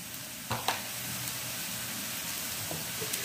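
Garlic fries in hot oil with a steady, crackling sizzle, and a couple of sharp scraping knocks from a stirring spoon near the start.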